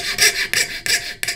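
Rhythmic back-and-forth strokes of a hand saw cutting small wooden earring pieces, four even rasping passes, close and clear.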